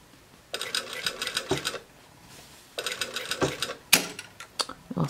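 A sewing machine stitches a 5/8-inch curve on jeans in two runs of rapid mechanical chatter, with a brief pause between them and a few sharper clicks near the end.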